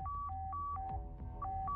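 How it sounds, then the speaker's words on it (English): Satellite phone ringing in the video game Reverse Collapse: a faint, quick electronic ring of alternating two-tone beeps repeating in a rapid pattern. "Hold on, that's a satellite phone. How could be ringing at a time like this?"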